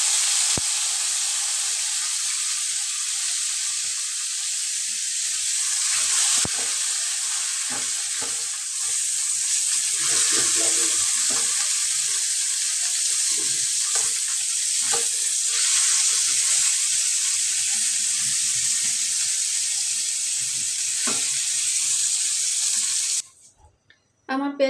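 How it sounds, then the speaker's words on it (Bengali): Onions fry in hot oil in a kadai for a Bangladeshi bharta, giving a steady, loud sizzle that runs almost unbroken with faint stirring clatter, then cuts off sharply near the end. "আমি কয়টা পেঁয়াজ ভেজে নেব তেলে"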